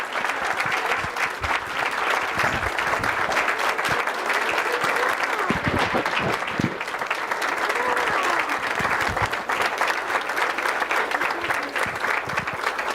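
An audience at a public school board of education meeting gives a sustained round of applause, dense crisp clapping that runs throughout with a voice speaking over parts of it.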